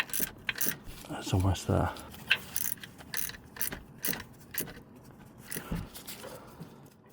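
Rapid clicking ratchet strokes tightening a 14mm bolt on a Toyota Yaris T Sport starter motor, in short bursts with pauses and metallic clinks, close, with a brief spoken remark partway through.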